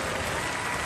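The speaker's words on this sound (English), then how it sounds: "give them a round of applause anyway" Short burst of crowd applause at a robot combat show, dense steady clapping filling the moment without pause.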